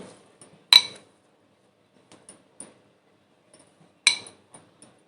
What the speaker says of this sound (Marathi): मी एक भांडं घेते